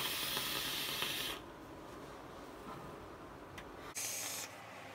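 Vapor drawn through a 528 Custom Vapes Goon 22mm RDA with a 0.17 ohm build at 110 watts, two airflow holes open, producing a close airy hiss that cuts off, then a second short pull.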